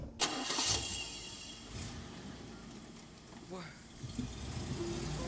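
A car engine cranks and starts in a scene from the film It's a Wonderful Life, a rough rumble mixed with background noise and some voices.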